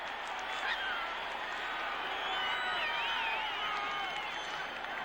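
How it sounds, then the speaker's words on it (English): A football stadium crowd cheers and roars for the Detroit Lions in a steady, dense wash of voices, distant and continuous throughout, with whistles rising above it and no pauses. "Boy, listen to this crowd. They are really pumped up now."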